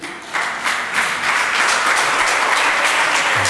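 A church congregation bursts into applause and acclamation for Jesus, claps swelling quickly from a brief start into a loud, sustained, dense ovation.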